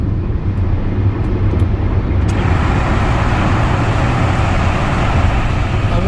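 Car cruising through a tunnel on an expressway, with a loud, steady roar of engine and road noise that fills the space and reverberates evenly for the whole stretch, with no voices.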